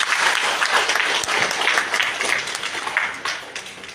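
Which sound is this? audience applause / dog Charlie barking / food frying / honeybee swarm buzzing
audience applause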